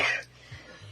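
A woman coughs once sharply, a short close burst followed by a faint throaty after-sound and quiet room noise.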